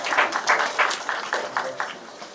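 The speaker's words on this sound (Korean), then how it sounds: "다시 한번 박수할까요?" A small church gathering claps in a brief, light round of applause, the individual claps distinct and fading after a couple of seconds.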